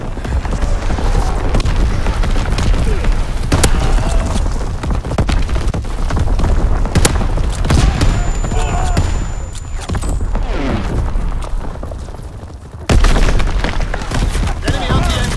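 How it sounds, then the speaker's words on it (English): Incoming enemy artillery in Call of Duty WWII, Shipment 1944 team deathmatch: repeated deep booms and thuds roll continuously under dense gunfire and in-game radio voice announcements, loud and close throughout. "Incoming enemy artillery."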